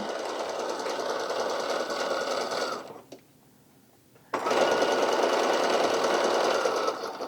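A sewing machine stitches the folded 6-inch fabric edges of a 1920s-style cloche hat in a steady, close whirring run that stops for about a second and a half, then starts again.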